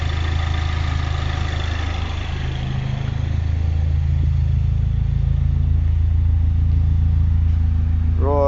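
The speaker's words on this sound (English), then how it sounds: "the car's been running for about half an hour, so it's well up to temperature" R56 Mini Cooper S engine idling at full operating temperature, a steady close low rumble with even pulsing that continues throughout, with a brief voice near the end.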